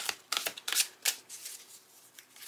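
A deck of tarot cards is shuffled for a reading, giving a few quick, close riffling bursts with soft pauses between them and no talking.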